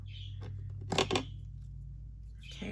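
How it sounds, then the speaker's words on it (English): Scissors cut paper craft trim in a few quick, faint snips close by, over a steady low background hum, with light rustling of paper before and after. "I think I'll cut this one here."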